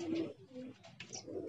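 Pigeons in a loft coo in soft, throaty rolling calls, several overlapping phrases close by, with a brief higher chirp partway through.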